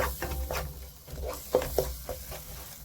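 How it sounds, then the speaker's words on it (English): Fried rice and egg are stirred in a pan over high heat, with quick close scraping strokes over a low sizzle, several irregular spatula knocks standing out. "Make sure to keep stirring"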